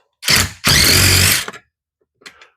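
A power tool whirs in two close, loud bursts, a short one then a longer steady run, as it works 9/16 inch seat bolts loose in a Toyota RAV4 Hybrid, followed by a faint click.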